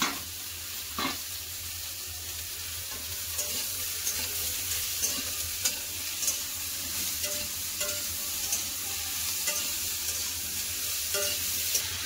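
Steady sizzling of potato, pumpkin and ridge gourd pieces frying in a pan, with occasional stirring scrapes and clicks, continuous and close, no voices.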